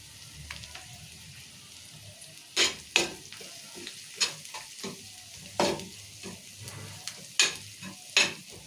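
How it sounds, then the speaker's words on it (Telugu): Goat brain fry being stirred with chili powder in hot oil: a steady close sizzle with a series of sharp spoon-against-pan scrapes and clinks spaced irregularly throughout, no talking. "కారం కూడా వేసి మంచిగా ఇట్లా కలుపుకోవాలి."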